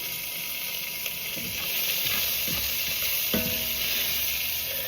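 Onions are lifted out of a sizzling pot during pot roast cooking, a continuous close hiss of frying with a few clinks and scrapes as they are scooped out, no talking.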